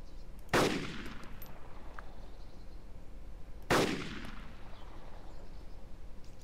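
Two sharp, loud gunshots from the video game DayZ Epoch crack out about three seconds apart, each leaving a short decaying echo over a quiet background.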